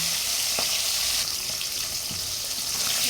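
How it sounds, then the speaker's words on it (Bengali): Fresh fish frying in a pan, a steady broadband sizzle with a few faint clicks of handling, continuous and close throughout with no talking. "মাছগুলো হচ্ছে আমি হালকা করে ভেজে নেবো"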